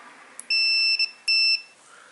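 A continuity tester checking the fuse of an LG 32PG6000 plasma TV gives two sharp electronic beeps, each about half a second long, loud and close with a brief pause between.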